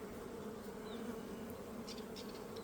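Wild honeybees buzz steadily at an open hive, a dense, continuous hum close by with no talk over it.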